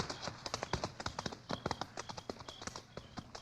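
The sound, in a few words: horse hooves clip-clopping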